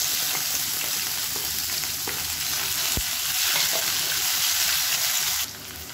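Steady, loud sizzling of sliced onion frying in hot oil for sambar, a continuous crackling hiss with occasional stirring, cutting off abruptly near the end.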